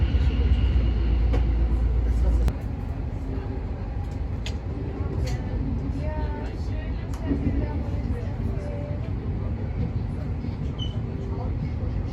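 A fast train rumbles steadily along the rails in Switzerland, bound for Zürich Hauptbahnhof, with a rising drone as it gathers speed, while people talk faintly in the background.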